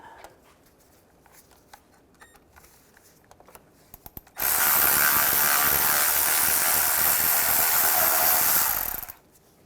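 A power tool whirs loud and continuous for about five seconds on a 13mm socket removing bolts from a 2005-2010 Chevrolet Cobalt during clutch slave cylinder work, after a stretch of small clicks and handling noises.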